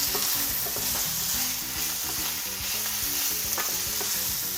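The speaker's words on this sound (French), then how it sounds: "Et on ajoute ensuite le piment. On mélange." Onions and chili for a rougail saucisse are stirred as they fry, a spoon scraping the pan in a quick, regular rhythm over a constant close sizzle.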